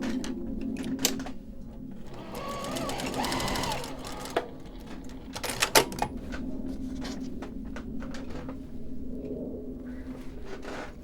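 A sewing machine stitches linen fabric in short, rapid mechanical bursts separated by pauses, with clicks and small handling knocks between runs, close and fairly quiet.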